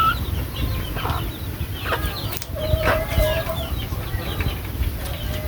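Chicks and chickens cluck and peep close by, with scattered short calls over a low rumbling background; no one speaks.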